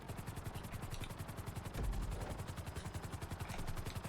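Helicopter rotor in the video game GTA V during flight-school landing practice, a steady rapid blade chop with a brief heavier thump midway, no talking.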